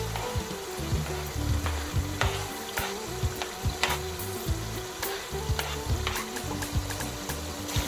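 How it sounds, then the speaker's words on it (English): Chicken, carrots and green peas stirred together in a hot pot for chicken pasta, with a continuous frying sizzle broken by repeated rhythmic scrapes and clunks of the spoon against the pot and no talking. "Then you stir everything, so you make sure that everything I put in the pot stirs together."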